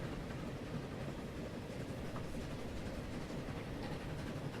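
A train rolls steadily in the Transport Fever railway game, a continuous low rumbling clatter at moderate distance with no speech.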